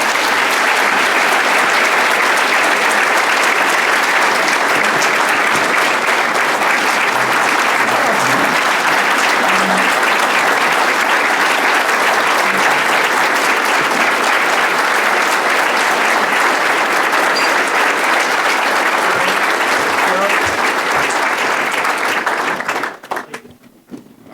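An audience applauds after the City Colleges of Chicago chancellor finishes a speech. The clapping is loud and sustained for over twenty seconds, then cuts off abruptly and thins into a few scattered claps.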